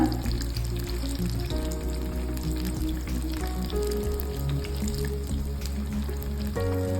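Jackfruit pieces deep-fry in hot oil with a continuous close sizzle and small bubbling crackles, steady throughout.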